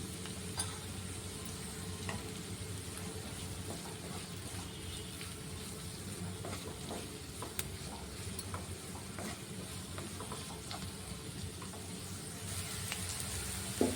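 Onions frying in a pan for an egg puff filling, a low, steady sizzle with occasional soft stirring ticks, faint and continuous, with no one talking.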